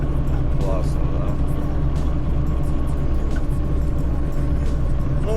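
A VAZ-2109 car drives along the road, a steady loud low rumble of engine and tyres from inside the cabin throughout, with someone talking over it.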